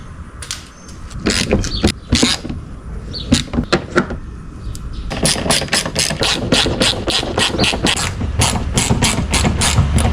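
Ratchet tightening the bolts of an engine splash shield under a 2014 car, heard as bursts of quick close clicking that run continuously through the second half, with a few knocks and clunks earlier.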